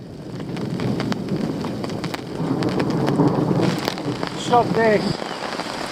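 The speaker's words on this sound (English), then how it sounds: "Here comes the rain." Rain patters steadily onto a fishing bivvy beside a lake, a dense hiss close by, while someone speaks briefly and a bird calls near the end.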